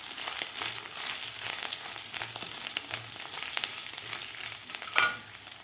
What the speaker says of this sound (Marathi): व्यवस्थित आपल्याला मसाले परतून घ्यायचे आहेत.